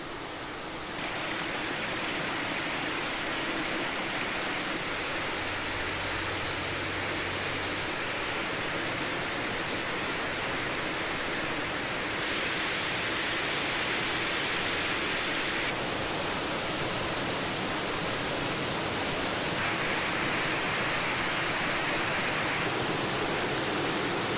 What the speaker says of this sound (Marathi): जवळपास 550 फुटावरून हा धबधबा डोंगरातून खाली कोसळतो आणि त्याचीच ही दृश्य.